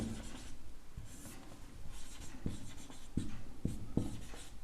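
A pen scratches steadily across paper as maths working is written out, with soft continuous strokes broken by sharper taps and pauses, close and fairly quiet with no talk.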